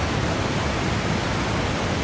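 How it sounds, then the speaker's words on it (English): Waterfall pouring down onto a Nissan Titan pickup truck parked beneath it in a river, a loud, steady, broadband roar of crashing water with no break, filling the whole clip. "it does look like we're gonna get underneath the waterfall"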